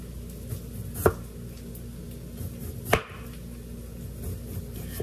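A knife cutting potatoes into thin slices on a board, two sharp, close chopping knocks spaced a couple of seconds apart over a low background hum, with faint softer taps between.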